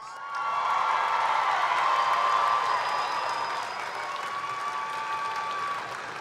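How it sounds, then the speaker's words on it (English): A high school graduation crowd applauds the graduating students, sustained loud clapping with scattered cheers and whoops, rising quickly and holding steady before easing slightly at the end. "Let's give them a big round of applause."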